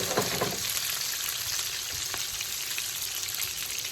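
Turkey meatballs browning in a hot pan give off a steady, close sizzle that holds at an even level throughout, with no voices over it.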